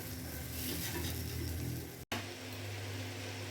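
A Bengali yogurt rohu fish curry gravy boils on a gas burner at full flame, giving a steady, quiet bubbling hiss that cuts out for a moment partway through.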